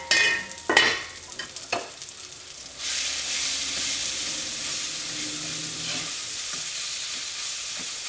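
Tomatoes for a Kerala cauliflower masala sizzle in a hot pan, with a few sharp scraping stirs at first, then a steady, close frying hiss.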